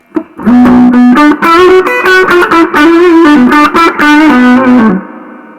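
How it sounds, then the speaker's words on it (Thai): An electric guitar plays through a Roland Cube 40 amp with heavy reverb, a loud, sustained, overdriven melodic line of held and bending notes whose reverb tail rings out after the playing stops. "รีเวิร์บมันช่ำดีจริงนะ"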